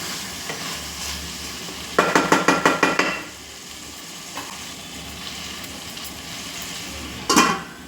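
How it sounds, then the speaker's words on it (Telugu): Chicken fry biryani is stirred in a pot over a flame, with a rapid series of scraping, clanking strokes of a utensil against metal under a constant sizzle, followed later by a single louder clatter. "ఒకసారి మిక్స్ చేసుకుంటున్నాను."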